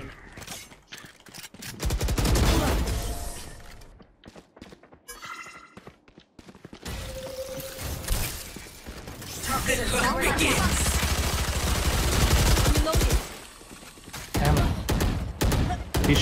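Valorant match gunfire with bursts of rifle shots and explosive game effects, loud and dense across most of the span, mixed with grunts and brief spoken callouts.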